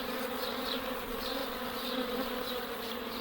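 Honeybees buzzing around a homemade hive indoors, a steady close drone of many wings with gently rising and falling swells, continuous and alone.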